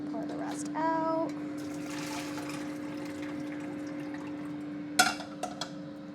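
Cooking water poured out while making fresh basil pesto pasta, a brief splashing pour over a steady appliance hum, followed by a few clinks near the end.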